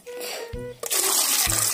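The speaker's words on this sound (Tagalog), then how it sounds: "So, lagyan po natin ng tubig" Water poured into a cooking pot outdoors for a shellfish soup of imbaw clams, a steady splashing pour that runs throughout with a brief break midway and low voices under it.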